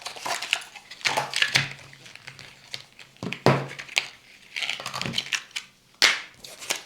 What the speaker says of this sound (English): So let's open the box to find out more about this product